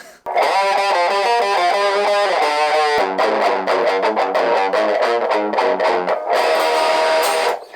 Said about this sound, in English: Now let's turn on the distortion, see what happens.